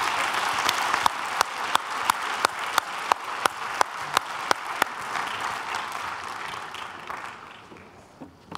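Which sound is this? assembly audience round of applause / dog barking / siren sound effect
assembly audience round of applause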